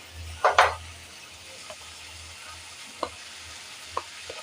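Fried chicken with tomato ketchup is stirred in a pan: a quiet, steady sizzle with a couple of loud scraping strokes early on and a few lighter spoon taps later.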